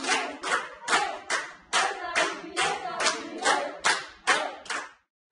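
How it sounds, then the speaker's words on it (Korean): Rhythmic clapping from a group of hands, about a dozen sharp bursts in steady succession, honouring patients who beat their illness, fairly close and clear before stopping abruptly. "병마와 싸워 이긴 환자에겐 아낌없는 박수를 선사합니다"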